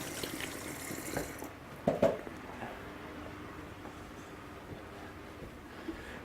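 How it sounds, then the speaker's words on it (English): A kitchen tap runs water while hands are rinsed, a steady low hiss of flowing water with a few louder splashes partway through. "while the pan is still cold, I'm just going to rinse my hands"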